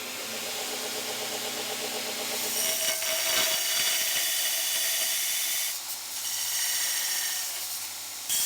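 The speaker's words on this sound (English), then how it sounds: "let's go clean this up on the belt sander" A belt sander grinds down a stainless steel exhaust bend, giving a loud, continuous abrasive whir with a rising, rough grinding hiss as the metal is pressed to the belt and a short dip partway through.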